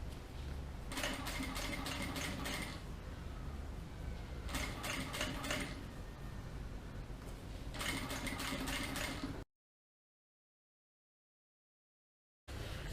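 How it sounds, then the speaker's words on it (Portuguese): Sewing machine stitching a bag seam, running in three steady bursts of rapid mechanical clatter with brief pauses between, then a stretch of silence before it starts up again. "nós vamos costurar até a marcação e dar um retrocesso"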